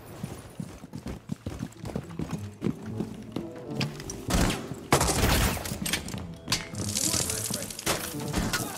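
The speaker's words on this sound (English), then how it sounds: "Look at the range. A shotgun." Shotgun fire in the video game Rainbow Six Siege: several loud, sharp blasts burst out amid busy in-game action and scattered impacts, with a particularly heavy report near the middle.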